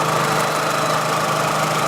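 A 2004 Volkswagen Jetta engine idles steadily with the hood open, a close, even mechanical hum and light clatter holding constant throughout with no talking.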